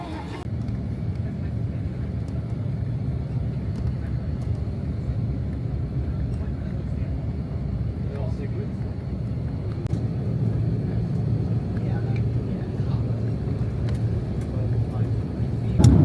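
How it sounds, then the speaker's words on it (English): Steady low roar of airliner cabin noise as the plane climbs after takeoff, a dense continuous engine rumble filling the cabin, swelling slightly toward the end, with a voice talking over it. "So we are off in the air, slightly late takeoff, but not too bad."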